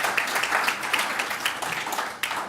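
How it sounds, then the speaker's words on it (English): A conference audience breaks into applause, a dense, even wash of many hands clapping at moderate distance, holding steady for a couple of seconds before tapering slightly. "Sean actually needs a big round of applause"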